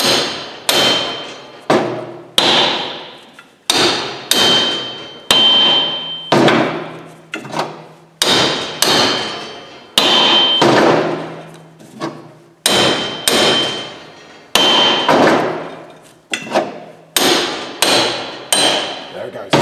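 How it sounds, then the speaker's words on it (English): Heavy blows from a 4-pound lump hammer strike a metal brake hub repeatedly, about sixteen loud, sharp impacts in uneven bursts, each ringing briefly before the next swing. "4-pound lump hammer and give it large"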